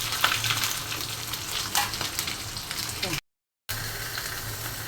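Pieces of rohu fish, including the head, sizzle steadily in hot oil in a pan, a close, continuous crackle that briefly cuts out before resuming.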